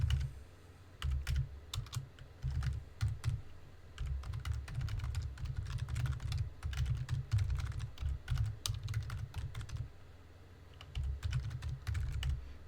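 Steady computer keyboard typing with fast, irregular keystrokes and brief pauses, close and clear with no talking, as commands are entered for a Linux install.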